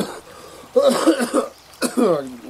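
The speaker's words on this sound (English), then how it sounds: "I've been having a cough all morning." Two short bursts of coughing close by, the first a rough cluster of hacks, the second a brief follow-up cough.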